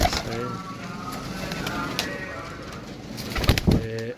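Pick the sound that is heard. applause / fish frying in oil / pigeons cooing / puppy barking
pigeons cooing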